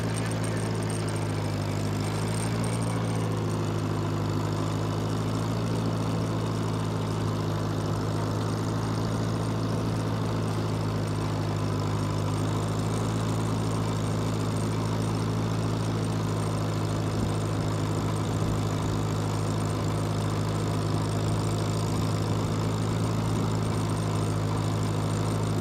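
A Farmall Cub tractor engine runs steadily while hauling a heavy log with a log arch on a hillside, a loud continuous low idle-like drone with no talk.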